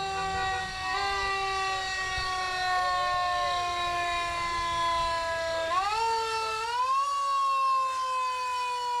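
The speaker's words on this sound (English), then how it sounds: "Fire truck goes by. hear the siren for a little bit, I guess." A Stewart and Stewart fire truck passes in the CarmelFest parade with its siren wailing steadily, rising in pitch partway through, loud and close over a low engine rumble and crowd noise.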